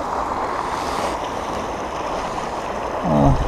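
Continuous rushing water of a mountain stream flows steadily throughout, broad and fairly loud, with a short low tone rising briefly near the end.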